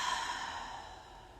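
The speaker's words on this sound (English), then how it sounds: "Those sort of spontaneous inhales, open mouth exhales." A single soft open-mouth exhale during yoga breathing, breathy and airy, close but faint, fading gently over about a second and a half.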